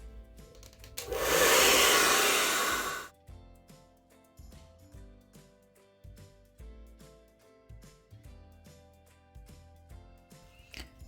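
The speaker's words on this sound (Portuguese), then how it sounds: "E a gente vai usar a mesma tática do secador de cabelo para desamassar esse plástico aqui." A hair dryer blasts loudly on crumpled plastic for about two seconds, then cuts off, leaving scattered light tapping and handling noises.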